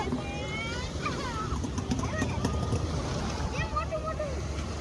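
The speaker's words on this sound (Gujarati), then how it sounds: "હમણાં જો આપણી સ્પીડ બોટ આવે" Steady roar of a speed boat's engine over choppy sea and wind off Shivrajpur beach, with excited voices chattering and calling out throughout.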